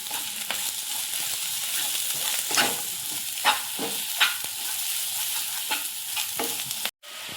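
Garam masala, coriander powder and salt being sautéed in a pan with vegetables, with steady frying sizzle and several sharp stirring scrapes, close and fairly loud, ending in a brief cutoff.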